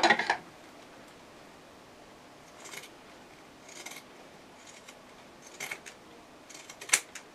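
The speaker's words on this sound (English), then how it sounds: "so I'll just snip that with the scissors." Scissors snip fabric near a zip while a circle wristlet is being sewn: a sharp cluster of snips at the start, then a few separate, faint cuts scattered through otherwise quiet room tone.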